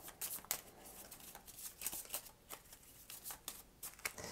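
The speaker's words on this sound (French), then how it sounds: "Et pareil, on remélange les cartes." Playing cards being shuffled by hand at a table during a solo tabletop game, with repeated riffling bursts and short pauses, close and fairly soft, with no speech.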